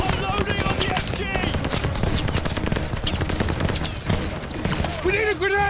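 Enemy machine gun fire in a Call of Duty: Vanguard battle, sustained rattling bursts mixed with scattered gunshots and combat noise, loud and continuous, with shouting voices over the top.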